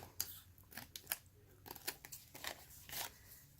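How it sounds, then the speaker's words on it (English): Quiet, irregular snips of scissors trimming the edges of stiff cardstock, a series of small crisp clicks and rustles spaced unevenly, close up. "just going to take your scissors and you're going to trim all along the 4 edges of our Whisper White cardstock"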